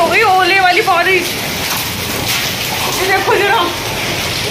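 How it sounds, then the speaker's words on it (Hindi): A heavy hailstorm with rain drums down on a rooftop ledge, a thick, steady rush of falling ice and water heard close, while people talk excitedly over it. "गाइस आज बहुत बहुत तगड़ी ओलावृष्टि हो गई, ओले वाली बारिश।"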